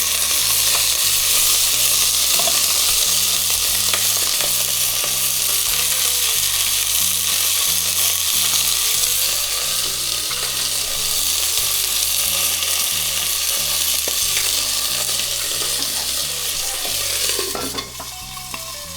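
Salmon fries in a hot pan with a loud, steady sizzle that runs unbroken for the whole stretch, with occasional faint scraping and stirring sounds and no talking.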